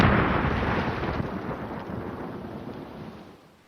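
An explosion sound effect, a deep rumbling boom that starts at full strength and slowly fades over a few seconds, close and heavy with no voices.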